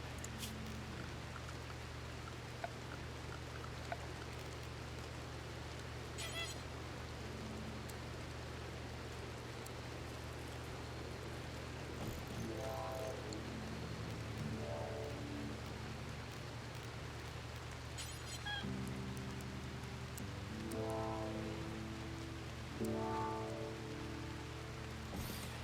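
Rain falls steadily in a video game, a soft constant hiss with scattered drops pattering on surfaces. A low drone sits underneath, along with faint game tones and brief chimes.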